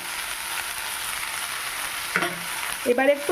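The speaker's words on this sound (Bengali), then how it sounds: "নেড়ে চেড়ে কিছুক্ষণ নেব এইভাবে" Small fish frying in a pan with ridge gourd, salt and turmeric, a continuous close sizzle with utensil scrapes near the end as the mix is stirred, a few brief spoken words over it.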